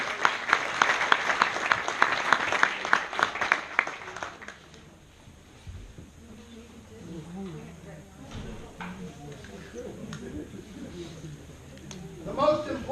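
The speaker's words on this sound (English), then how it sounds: "So give him a round of applause" A burst of applause from a crowd fills the first few seconds, then fades into quieter room noise with scattered movement.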